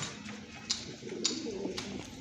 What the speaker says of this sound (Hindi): आ मोती वाली कबूतरी है जी देसी